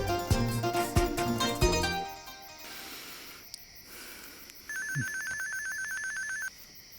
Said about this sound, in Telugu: పాడుగాల పొద్దునుంచి ఫోన్ మోగుతానే ఉన్నాయి